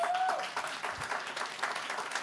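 Audience applause at a Patients Day 2023 event, a dense, steady patter of clapping that carries through the whole short stretch at moderate volume, with a faint tone near the start.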